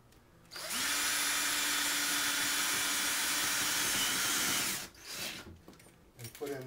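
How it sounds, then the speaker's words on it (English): A power drill driving screws while installing vertical blinds whirs steadily at high speed for about four seconds, close by, then stops, followed by brief handling noises. "Take my drill."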